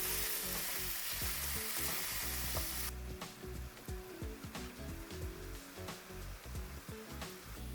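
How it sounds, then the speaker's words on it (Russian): Steady crackling sizzle of sliced mushrooms frying in hot oil over medium heat, dense and close, with occasional scraping stirs and no voices. "отправляем жариться грибы, нарезанные ломтиками"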